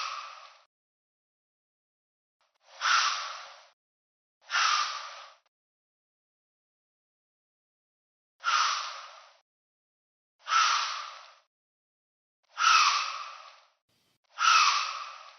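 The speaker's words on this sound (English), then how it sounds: "Sometimes it's commonly referred to as deer blowing at you." A deer gives a series of sharp, breathy alarm snorts, seven separate blows spaced a second or two apart, each loud and abrupt against silence.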